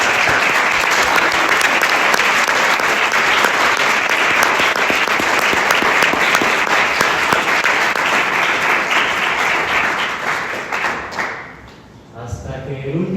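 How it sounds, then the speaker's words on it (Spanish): A seated audience at a book presentation on water justice breaks into loud, steady applause lasting many seconds, then it fades and a voice begins. "Demos las gracias a nuestros siguientes ponentes con un fuerte aplauso."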